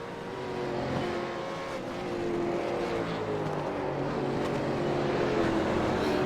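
V8 race cars roar around Oran Park circuit, several engines droning and shifting pitch as they pass at a distance, a continuous layered motor whine with no voices.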